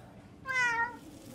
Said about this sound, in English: I saved this kitty for you.